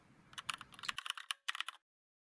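Fingers type an email address on a computer keyboard, a quick, close series of light clicking keystrokes in two short bursts with a brief pause between, then silence.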